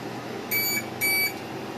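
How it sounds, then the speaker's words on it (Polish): Two short electronic beeps, evenly spaced, sound over a constant low hum, loud and close: the overload alarm of a 48 V to 230 V power inverter running a kettle and a toaster. "no i już mamy alarm, że jest przeciążona"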